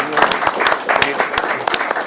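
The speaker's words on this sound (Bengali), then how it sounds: "আপনাদের কাছে কৃতজ্ঞতা জানাচ্ছি একদম জোরে একটা হাততালি দিয়ে সবার জন্য" An audience claps loudly and steadily at a speech event about remittances from expatriate workers, a dense burst of applause lasting a couple of seconds, close and full.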